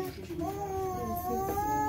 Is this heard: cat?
yes